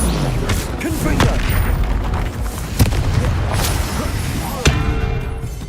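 Confringo spell explosions in the video game Hogwarts Legacy, several loud booming blasts with sharp cracks spaced a second or two apart over rumbling combat noise, close and forceful.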